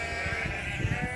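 Sheep bleat briefly and nearby in English countryside at Bodenham Arboretum, a couple of short wavering calls over a soft outdoor background.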